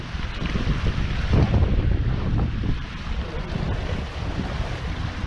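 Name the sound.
wind gusts while sailing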